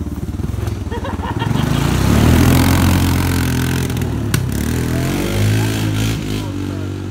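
An engine is revved hard, climbing to a loud, raspy, sustained roar that holds and then wavers, with voices faintly underneath.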